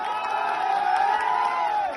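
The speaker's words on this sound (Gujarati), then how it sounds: "એકવાર તાળીઓથી વધારો" A large crowd at a political rally in Morbi cheers and applauds loudly in a dense, steady roar that holds at the same level throughout, with scattered whoops rising above it.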